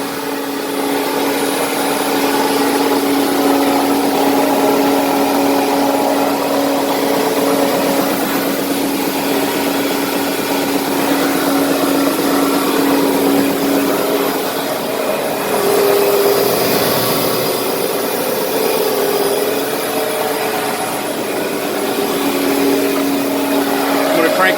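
A Powermatic Timesaver wide belt sander runs a stained board, a loud, steady machine drone with a constant whine that holds unbroken from start to finish.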